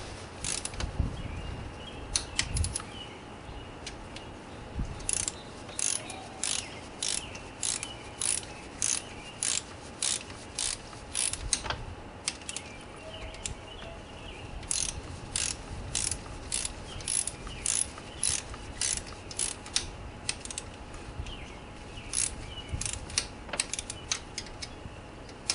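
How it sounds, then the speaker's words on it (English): A ratchet torques fuel injector bolts on the intake manifold of a Ford Taurus 3.0L OHV engine, producing rapid close clicking runs in repeated bursts with brief pauses between strokes. "Here I go to torque these to 120 inch-pounds of torque."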